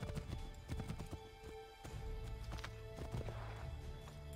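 Horse hooves clip-clop steadily in the video game Assassin's Creed 3, a quick continuous rhythm of hoofbeats with a faint neigh, heard fairly close with no talking.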